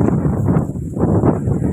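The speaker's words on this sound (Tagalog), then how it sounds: "Naririnig nyo ba yung sounds ng hangin?" Strong wind gusting at Metro Gate in Tagaytay, a loud, steady broadband roar buffeting the microphone, dipping briefly before surging again.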